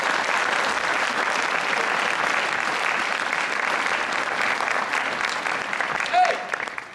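A crowd at a bakery brass band concert claps for four band members, giving a loud, sustained round of applause that fades slightly at the end, with a voice faintly under it.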